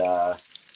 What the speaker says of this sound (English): I can still see the meat sizzling there.